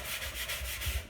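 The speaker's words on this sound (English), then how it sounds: "Now I'm also going to give the chipboard bits a bit of a sanding" Chipboard bookcase parts being hand-sanded with steady back-and-forth rubbing strokes, close and continuous with a rhythmic rasp and no voices.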